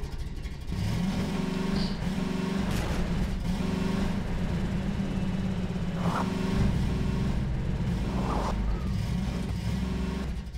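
Car climbing a small hill in the Half-Life 2 mod Necrophobia: a continuous engine drone with shifting low rumble and occasional revving swells, steady and fairly loud throughout, no speech.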